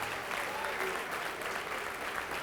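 A church congregation claps together in praise, a dense, even wash of applause filling the room at moderate volume with no talk over it.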